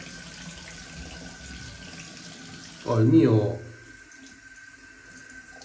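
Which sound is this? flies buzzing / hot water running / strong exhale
hot water running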